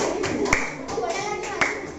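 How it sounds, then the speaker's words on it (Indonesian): A small classroom group claps after a presentation, a burst of scattered applause with a few sharper hand claps and voices murmuring underneath. "Kasih tepuk tangan dulu buat Rita."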